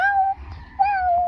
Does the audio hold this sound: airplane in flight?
no